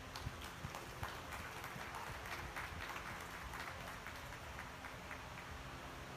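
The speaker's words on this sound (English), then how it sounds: "Give these Ayrshire exhibitors a round of applause." Steady crowd clapping at a youth dairy cattle show for Ayrshire exhibitors fills the space, mixed with dense broadband noise and some hoof-like thuds, sustained throughout without pause.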